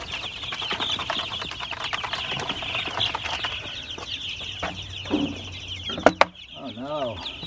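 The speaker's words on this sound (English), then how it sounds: "Okay, now to the baby chicks." Baby chicks and chickens cluck and peep in a backyard garden coop, a busy chorus of chirps with occasional wing flaps, close by, ending in a couple of sharp knocks and a rising squawk.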